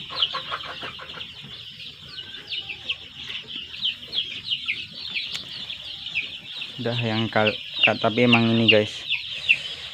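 Young KUB village chickens cluck and peep busily in a new coop, a continuous chorus of high chirps with a louder throaty squawk burst near the end, while someone talks briefly.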